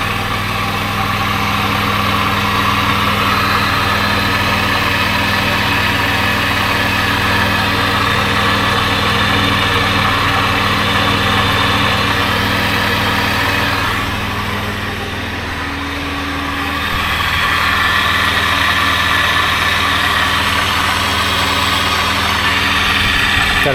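A Toyota Land Cruiser 80 Series engine idles steadily with a leaking exhaust blowing out, a continuous rough low drone that dips briefly midway.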